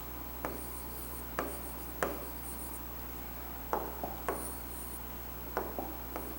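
Pen or pencil writing by hand, heard as faint, close scratchy strokes in short irregular bursts over a steady low electrical hum.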